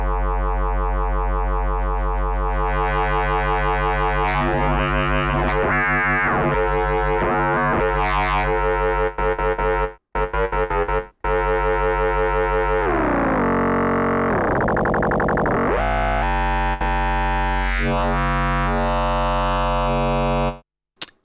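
Modal Argon8 synthesizer playing an aggressive, buzzy wavetable tone built from 002 waves, a loud sustained harmonic-rich note that shifts texture and drops out in two brief gaps before cutting off near the end.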